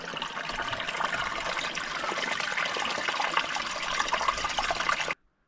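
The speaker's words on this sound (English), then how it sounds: "maybe there's some water running down to the lake there" Water trickling from a small mountain spring in the Lofoten hills, a steady, close, bright splashing and dribbling that runs evenly for about five seconds and then cuts off abruptly.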